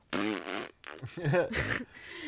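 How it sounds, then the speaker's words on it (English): A loud, drawn-out fart gag in a 1981 horror film sputters and buzzes in several bursts, heard close and alone. "Classic fart gag to just ease the tension"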